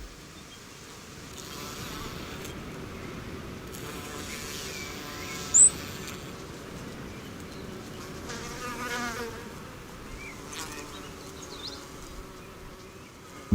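Insects buzz steadily around flowers in the Australian outdoors, a continuous close droning hum that swells and fades as they move, with one brief sharp click partway through.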